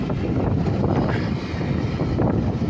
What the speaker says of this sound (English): Oh, I hear that wind is brutal. That wind is brutal.